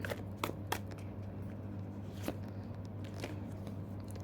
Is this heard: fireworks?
no